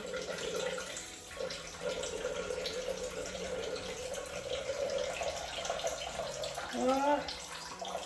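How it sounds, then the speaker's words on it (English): Water streams steadily from a kettle into a Thermomix jug, a continuous close pour with a faint rising pitch near the end as it fills. "I love just grabbing my kettle when I need to pour water in my Thermomix."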